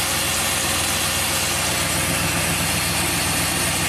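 Engine of a 1998 Chevy K2500 pickup truck idling, with a misfire, a loud close steady rumble with an even vibration and no voices.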